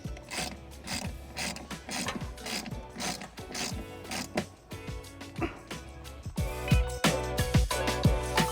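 Ratchet wrench threading bolts to mount an ARB onboard air compressor onto an under-seat storage container in a Nissan Frontier; rapid, close clicking bursts repeat steadily with brief pauses, loud and alone.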